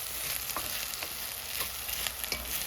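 Rice toasts with salt in a hot pan, giving a steady close sizzle while a utensil scrapes and stirs it in repeated strokes, with no talking.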